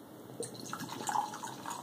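Monster Ultra Citron energy drink pours steadily into a glass, a faint continuous liquid splash and trickle with a few brighter drips, close and quiet, no voices over it.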